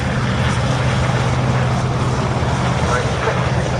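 Steady, loud rotor and engine drone of helicopters overhead at the Duxford air show, continuous and unvarying throughout with no other distinct sounds.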